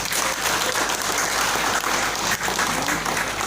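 Audience applause at a community gathering in a Banjar hall in Ubud, Bali, a steady dense wash of clapping that carries on without a break, with no speech over it.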